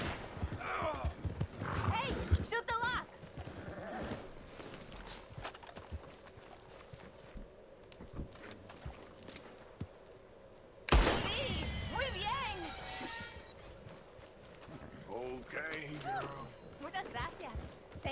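Horse hooves clip-clop in the open-world western game Red Dead Redemption 2, mixed with whinnies and other game sounds, while someone talks over most of the stretch.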